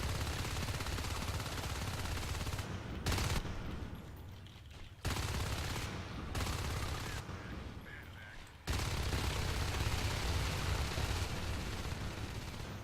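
Continuous automatic gunfire rattles through a Natural Selection 2 match, dense and loud in long bursts with brief gaps between them.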